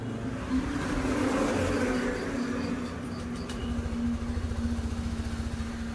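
Motorcycle engine running steadily after starting, a low continuous idle hum with a faint rhythmic pulse, heard close and without talk.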